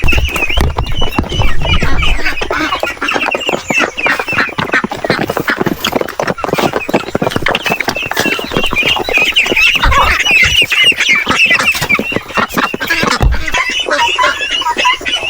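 Peking ducks, Muscovy ducks and native chickens at feeding on a small farm, a loud, dense chorus of quacking, clucking and squawking that continues throughout, close by, with some talk mixed in.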